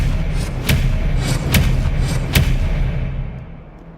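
Expelliarmus spell effects in the video game Hogwarts Legacy: several heavy, booming thuds with sharp cracks land in a loose rhythm over a low rumbling bed, then the sound fades away at the end.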